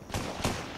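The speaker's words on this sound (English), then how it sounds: "Oh, are you shooting?" Two sharp gunshot bursts about a third of a second apart in the Fortnite video game, each loud and broadband against a steady background hum, with no talking.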